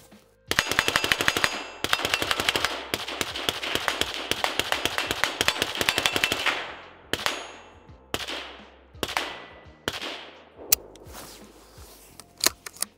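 A Knight's Armament CQB 11.5 rifle fitted with a KAC 5.56mm suppressor fires outdoors, first in a long rapid string of sharp, muffled cracks, then in slower, spaced single shots, with no talk over it.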